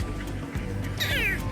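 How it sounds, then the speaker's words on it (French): A tiny cat on the Perhentian Islands gives one rising, drawn-out meow near the end, close and clear over steady outdoor background noise, with no talking. "Regardez le petit chat."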